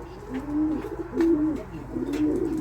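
Soft, low cooing of a Kayseri pigeon repeats in a few rolling phrases, close by, with faint background noise and no talking.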